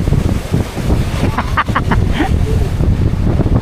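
Strong northeast monsoon wind batters a boat at sea, a steady loud roar buffeting the microphone throughout, with faint water and hull sounds beneath.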